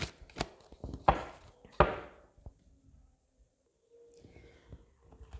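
A handful of crisp, separate slaps and flicks from oracle cards being handled and shuffled, close and fairly loud, with quiet pauses between them and faint rustling afterward.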